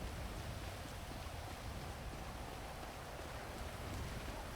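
Rain falls steadily, a dense even hiss of drops on surfaces that stays constant throughout, fairly quiet and with no voices.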